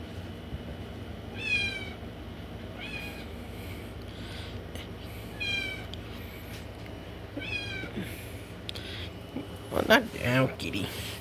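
A cat meows several times at intervals over a steady low background hum, with a louder, closer meow near the end.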